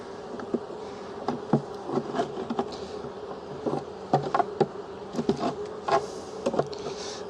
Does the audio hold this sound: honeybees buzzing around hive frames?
yes